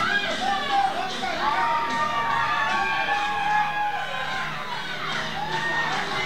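A wrestling crowd cheers for hometown hero Joe Bruiser, a dense, steady roar of shouting and whooping voices that holds at a loud level throughout.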